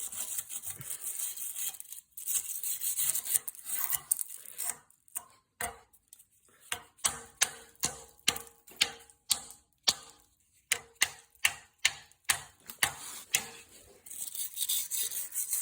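Wire brush scrubbing rust off rusty Jeep XJ brake components, repeated rhythmic rasping strokes, close and moderately loud, steady back-and-forth scraping with brief pauses, no talk.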